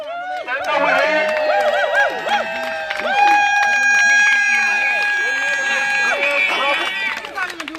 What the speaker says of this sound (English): get loud, clap your hands, up the speed, get loud, scream